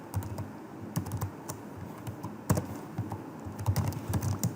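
Light, rapid keystrokes on a computer keyboard while writing C++ code, irregular bursts of clicks with brief pauses and one sharper tap midway, close and fairly quiet with no talking.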